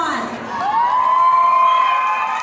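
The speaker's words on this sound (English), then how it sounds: "let me hear a cheer of the people from cluster 1" Audience members from cluster 1 cheer during the question-and-answer round of the Miss Don Carlos pageant in Bukidnon. A short burst of crowd cheering is led by one sustained, rising whoop from a nearby voice.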